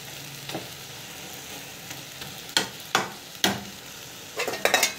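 Greens sautéing in a pan with tamarind added, a continuous soft sizzle broken by several sharp stirring scrapes toward the end, with no talking.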